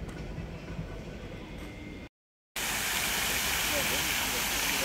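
A park fountain on a late afternoon splashes steadily, a dense broadband wash of falling water that breaks off in a short silent gap and then returns louder and closer.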